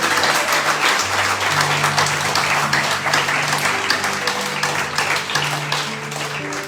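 Church congregation applauding during a sermon, sustained loud clapping from a full room lasting several seconds, with low instrumental tones sounding beneath.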